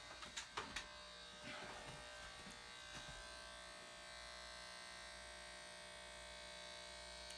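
An electric hair clipper buzzes steadily while trimming a beard at home, with a few soft clicks and handling bumps at the start before the motor drone settles into an even, fairly quiet hum.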